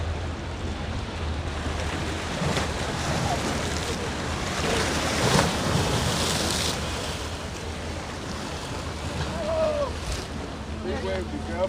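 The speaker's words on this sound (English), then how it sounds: "Big wave, be careful, Georgia." Big ocean waves surging and breaking against a jetty in Venice, Florida at sunset, a loud sustained wash of surf with wind buffeting the microphone and faint voices in the background.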